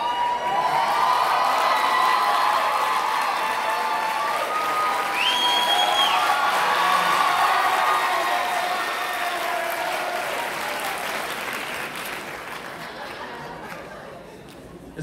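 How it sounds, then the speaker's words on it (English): An audience at a high school symphonic band spring concert applauds steadily in a hall, a dense wash of clapping with some crowd chatter that slowly fades toward the end, with a voice speaking faintly through it. "applause"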